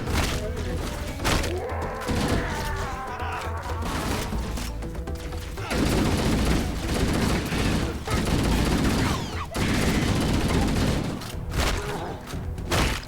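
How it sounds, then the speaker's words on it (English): Assault rifle fire in Halo: Combat Evolved Anniversary, loud sustained bursts of automatic shots mixed with explosions, impacts and game effects throughout, with a voice talking over parts of it. "I do love that you get to carry an obscene 600 rounds, 10-full magazines for the Halo Combat Evolved Assault Rifle"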